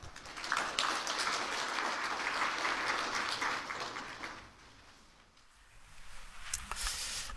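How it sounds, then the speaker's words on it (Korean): Audience applause at a Korean science forum as a speaker from the national agricultural research institute is welcomed to the stage, a sustained broad clatter that swells near the start, thins and dips midway, then returns more lightly at the end. "큰 박수로 환영해 주시기 바랍니다."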